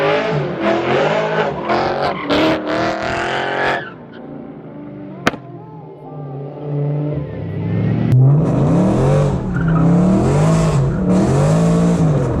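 A BMW E92 M3 does donuts in the snow, its loud engine revving hard and its tires squealing in long, wavering bursts close by. There is a brief lull before the engine and tire squeal surge again.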